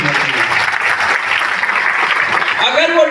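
Audience applause for a product at a DXN gathering, a dense burst of clapping that holds steady for a few seconds, near and fairly loud.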